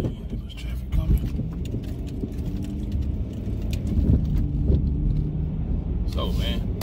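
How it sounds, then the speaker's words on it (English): Road traffic going by, a continuous close rumble of passing vehicles with a few louder swells and clatters, while someone talks over it. "There was traffic coming"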